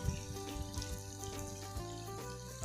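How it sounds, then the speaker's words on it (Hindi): Potatoes frying in a pan for chicken dum biryani give a steady, soft sizzle with scattered light crackles, set against a faint background hum and no talking. "जब तक हमारा आलू फ्राई हो रहा है"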